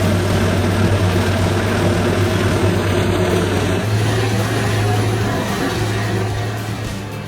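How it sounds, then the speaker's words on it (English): A Peterson 5710D tracked horizontal grinder runs continuously, giving a loud, heavy industrial drone with a steady low hum that fades slightly toward the end, with no voices present. "The Peterson 5710D horizontal grinder is a high-performance tracked grinder designed for demanding industrial applications"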